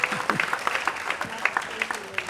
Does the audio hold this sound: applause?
yes